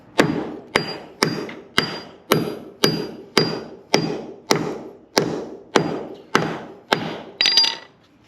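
A hammer drives 16 penny nails into concrete with about thirteen sharp, evenly spaced blows, each a hard close thunk that fades quickly before the next strike.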